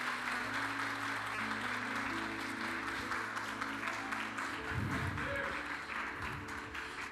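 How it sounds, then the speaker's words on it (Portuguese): Church congregation claps for Jesus at a Brazilian Portuguese-language service, a steady wash of applause throughout, with faint music or voices underneath. "Você pode bater uma salva de palmas bem forte para Jesus"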